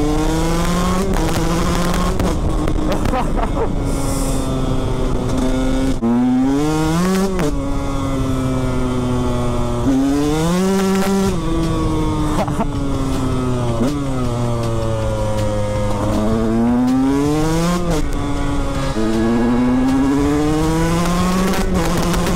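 A KTM 125 SX supermoto motorcycle's two-stroke engine revs hard and close, climbing and falling in repeated surges through the gears with brief drops between pulls, loud throughout with no talking.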